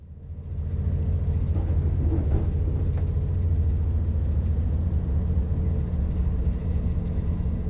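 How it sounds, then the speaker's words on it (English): Heavy, steady low rumble of a Voyager Class 220 train rolling slowly at about 15 mph over other tracks on the Stafford to Wolverhampton line in Train Sim World 6, continuous and close with faint rattling on top. "These are the parts I love, when the train's going over other tracks."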